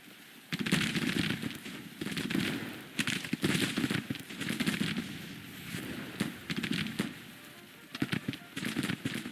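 Civil War-era infantry volleys from Grand Tactician: The Civil War crackle in repeated ragged bursts, distant and mid-loud, with scattered popping musket shots between waves.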